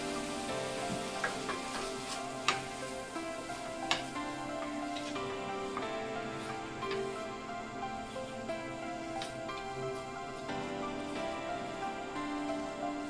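American corn frying in a pan with butter, tomato and garlic, a soft steady sizzle running throughout with a few faint clicks of stirring, quiet and close, no voices.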